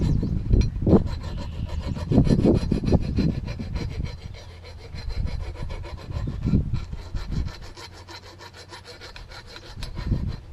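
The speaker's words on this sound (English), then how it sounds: "I went up and got a file. See if I can't get some of these burrs out of here." A metal file rasps back and forth over a hay mower part to knock off burrs, steady scraping strokes in close, loud bursts with brief pauses between passes, no talking.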